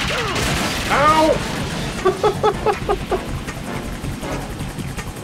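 Bombs dropping on the player in Metal Gear Solid 2 on PS2 burst as a quick run of loud, rhythmic blasts mid-clip, after a brief shout and under busy game noise.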